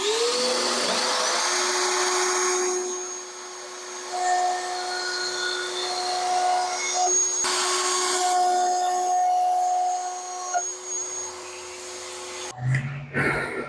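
A power tool cuts notches in a wooden wine bottle holder, a loud whining tonal drone with rising and falling pitch as the blade bites into the wood, punctuated by brief shifts and a final clatter.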